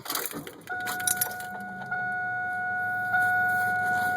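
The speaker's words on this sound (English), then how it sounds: "start the car back up." A Pontiac Grand Am GT starts up after a brief jangle of keys: the engine catches and settles into a steady, close idle that rises in level twice as it runs.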